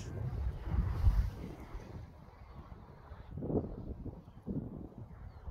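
Strong wind buffets the microphone outdoors on a hiking trail overlooking a bend of the Daugava River, in loud gusts that rise and fall.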